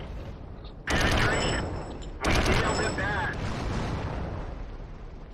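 Tank guns firing in the World of Tanks video game: two loud, close booming blasts a little over a second apart, each followed by a long rumbling decay, with a voice faintly in the background.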